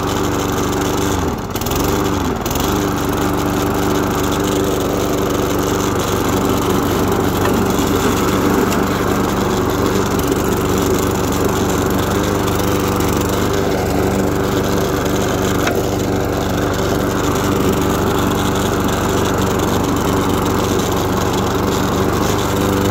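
An Einhell lawn mower fitted with a swapped engine runs steadily for the whole stretch, a constant close droning hum with a light rattle and a brief knock near the start.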